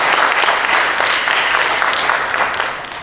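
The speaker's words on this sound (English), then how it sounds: "Let's give it up for Lyndon one more time" Loud, steady applause from a charity talent show audience fills the room, a dense wash of clapping sustained throughout with no voices on top.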